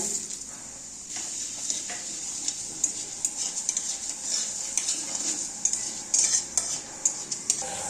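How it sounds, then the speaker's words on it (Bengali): Dry red chillies, panch phoron and raw moong dal frying in a hot tempering, a bright continuous sizzle with irregular spoon scrapes and light metal clinks against the pan, busier toward the end. No voices. "ফোড়নে দিয়ে দিচ্ছি শুকনো লঙ্কা দিয়ে দিচ্ছি পাঁচ ফোড়ন দিয়ে দিচ্ছি কাঁচা মুগ ডাল"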